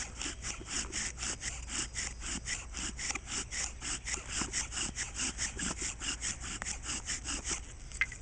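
Bow drill spindle rubbing hard against a wooden fire board, a steady rapid back-and-forth scraping with a rhythmic pulse at each stroke, close and continuous under added pressure and speed, with no talking.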